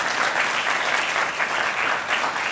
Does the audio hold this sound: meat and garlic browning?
no